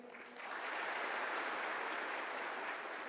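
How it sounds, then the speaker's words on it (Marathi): Loud, sustained applause from an audience at an Indian Marathi event, a dense clapping wash that swells after a quiet start and holds steady to the end. "म्हणून जोरदार टाळ्या होत्या एकदा साहेबांसाठी"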